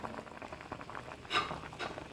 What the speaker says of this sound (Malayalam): മൺചട്ടിയിൽ നിന്ന് തിള വന്നുകൊണ്ടേയിരിക്കും.